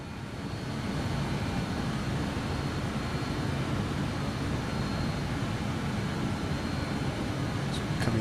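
BAe Avro RJ85 jet engines at climb power in Microsoft Flight Simulator: a steady, loud, broadband engine roar builds within the first second and holds constant throughout, with no talk.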